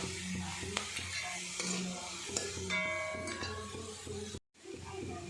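Onions frying in a pan for a gravy-style pork curry with plantain, with a teaspoon of Kashmiri chilli added. A steady close sizzle sits under repeated scraping and stirring strokes, with a brief metallic clink of a spoon partway through.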